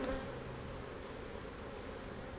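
Honeybees swarm around a busy hive in January, a faint, steady insect buzz with a low droning hum and no voices over it.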